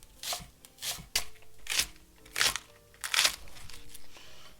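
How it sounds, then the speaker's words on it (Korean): Green onion, two stalks with the root ends trimmed, sliced on the diagonal with a knife on a board: a series of crisp, close chopping crunches at an uneven rhythm, each cut distinct and fairly loud, with no talking. "2대인데 밑둥 자르고 그냥 어슷 썰어주세요."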